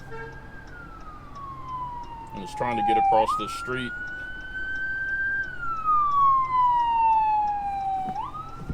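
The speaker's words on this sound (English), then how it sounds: "right now there's an ambulance coming that you guys might be able to hear" An ambulance siren wails in long rising and falling sweeps, loud and close, as it passes; a person speaks briefly over it.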